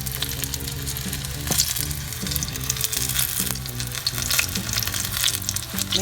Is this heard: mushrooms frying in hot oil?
yes